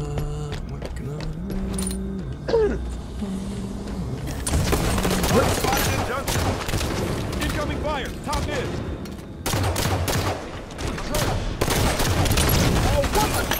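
Video game gunfire crackles in rapid bursts and volleys, loud and close, interleaved with short electronic tones and game effects throughout.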